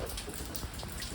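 Rain falling on a roof, a steady, dense patter of drops close by with no voices.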